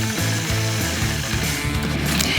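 Sewing machine stitching through a quilt star block with a gentle hand pressure, a steady, loud mechanical whir with fast rhythmic needle chatter running continuously.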